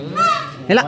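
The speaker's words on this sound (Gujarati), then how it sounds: "હા મારો મોર રાષ્ટ્રીય પક્ષી મોર આવ્યો" A peacock in Junagadh gives two loud, nasal, honking calls close by, the first drawn out and the second shorter and sharper.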